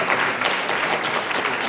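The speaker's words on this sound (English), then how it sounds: "So give them one more round of applause and say that in your head." A conference audience applauds a panel in a steady, dense round of clapping that carries evenly through the short stretch, fairly loud and close.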